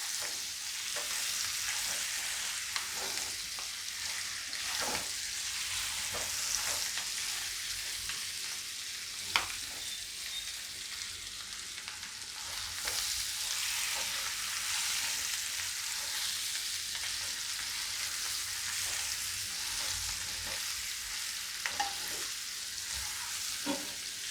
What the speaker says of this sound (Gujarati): થોડી વાર આ રીતે તેલમાં ફેરવશું એટલે બટેટામાં અંદર સ્વાદ સરસ આવી જાય એમ.